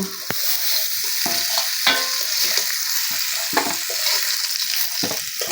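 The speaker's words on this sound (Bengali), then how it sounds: "লবণ হলুদটা ভালো করে মিশিয়ে একটু ভাজা ভাজা করে নেব" Vegetables, including potatoes and carrots, frying in oil with turmeric and salt in a village kitchen. A loud, steady sizzle runs throughout, broken by repeated scraping and clattering stirring strokes close by.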